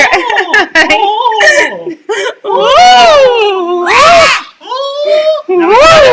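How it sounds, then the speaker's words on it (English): Several voices scream and shriek loudly at close range, with rising and falling wails and some giggling between the cries. "Oh, I don't have my scream button, so we'll just have to scream."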